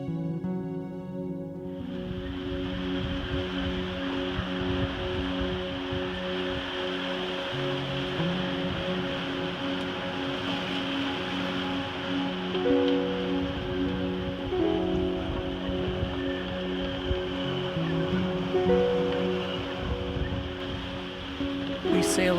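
Aboard a sailboat at sea, a wind and rain squall roars and rushes steadily with splashing water and rigging hum, continuous and fairly close throughout, with no voices.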